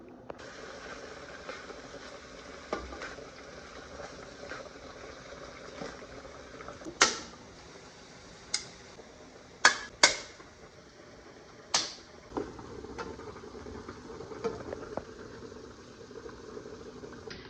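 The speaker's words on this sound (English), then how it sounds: "So we're going to open all of these cans now in preparation for the meat finishing." Cans of tomatoes and tomato sauce are opened in a quiet home kitchen, giving a handful of sharp, separate metallic pops and clicks spaced a second or two apart over a low background hiss.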